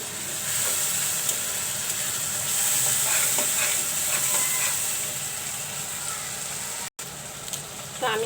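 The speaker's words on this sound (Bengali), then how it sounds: "ভালো করে কষিয়ে নেব মশলাগুলো" Spices sauté in a pan with a continuous close sizzle and steamy hiss, broken by a brief dropout and a few light stirring sounds.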